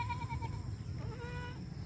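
A Rajanpuri goat lets out two wavering bleats one after another, close and moderately loud over a steady background rumble.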